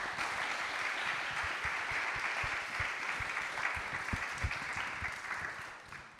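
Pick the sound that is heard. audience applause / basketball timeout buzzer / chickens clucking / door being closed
audience applause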